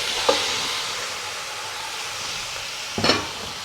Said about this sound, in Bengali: এবার আমি 2 কেজি হাড়সহ মাংস এই তেলের মধ্যেই দিয়ে দেব।